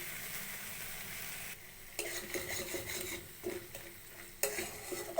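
A pan sizzles steadily as spice paste fries with salt and a little sugar, with a utensil stirring and scraping against the metal in short bursts.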